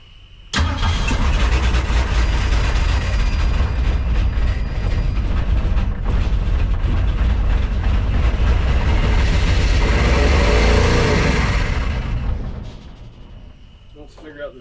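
A 1964 Ford Econoline van, abandoned for 37 years, cranks and catches, then idles and revs loudly and roughly for about twelve seconds before cutting off.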